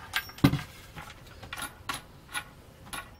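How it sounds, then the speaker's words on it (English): Metal wing nuts and washers for a folding dinette table are handled up close, giving a sharp clink followed by several light jangling, tapping metallic clicks. "Three wing nuts"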